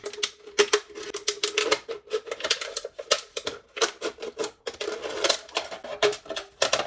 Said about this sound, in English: So then I started chopping up the cans so they were flat sheets of metal.